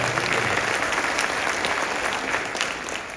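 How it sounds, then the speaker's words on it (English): An audience at a school cadet band event applauds the assistant principal, a steady, full wash of clapping that fades slightly toward the end. "Let's give a round of applause for Ms. Ferreira."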